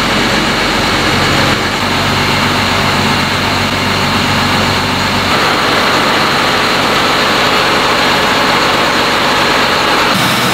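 A homebuilt boat's engine under throttle, turning a propeller through a transfer case drive: a loud, steady, close-up drone with a heavy low rumble that holds constant, with a slight change in pitch partway through and no voices.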